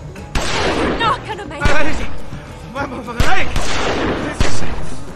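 Gunfire in The Walking Dead Season 2 video game, sharp shots recurring irregularly among loud crashes and shouting voices, close and forceful under frantic speech.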